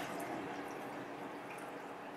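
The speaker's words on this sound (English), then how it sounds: "When we pour some of the water out of the glass," Water pouring out of a drinking glass in a steady, continuous wash of splashing liquid, fairly close and even in level throughout, with no voices.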